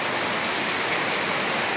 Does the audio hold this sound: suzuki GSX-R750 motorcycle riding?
no